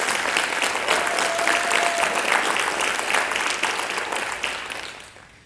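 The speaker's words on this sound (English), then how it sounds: "So round of applause." An audience at an Air Force Research Laboratory Inspire event bursts into loud, sustained applause that stays full for several seconds, then gradually fades away.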